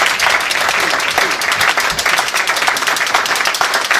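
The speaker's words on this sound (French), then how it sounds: "Nous pouvons l'applaudir." Audience applause at a French-language ceremony honouring a sponsor, a dense, steady patter of many hands clapping throughout, fairly close and loud with faint voices mixed in.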